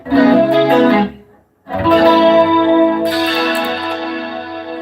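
Electric guitar through a Source Audio chorus pedal, sustained shimmering chords that stop briefly and ring out again, loud and close with no talk.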